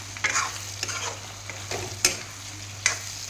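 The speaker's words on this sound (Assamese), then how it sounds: "অকণমান লৰাই লওঁ।" Chicken curry stirred in a pan, Assamese style, with a spatula scraping in a few spaced strokes over a soft sizzle and a steady low hum; no one speaks.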